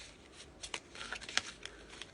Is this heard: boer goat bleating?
no